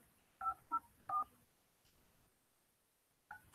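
Telephone keypad tones are heard close up as three short, distinct beeps in quick succession, then a pause and a fourth tone.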